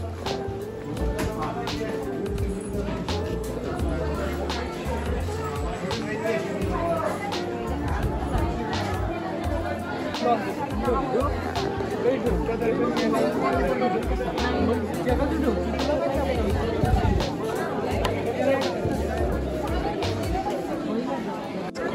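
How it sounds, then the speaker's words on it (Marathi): Dense crowd chatter fills the grounds of a busy temple in Konkan during the holidays, a continuous close babble of many overlapping voices with footsteps and shuffling mixed in. "खूपच जास्त गर्दी आहे इकडे."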